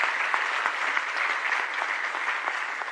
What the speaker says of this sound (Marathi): टाळ्या तर छान वाटतात